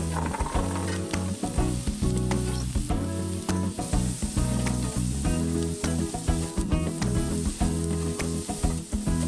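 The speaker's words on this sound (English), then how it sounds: "After the onions get soft, then add in your carrots." Carrots dropped into a pot of softened onions sizzle loudly and steadily. A dense, continuous frying hiss runs throughout, broken by occasional sharper crackles and stirring scrapes, with no talking.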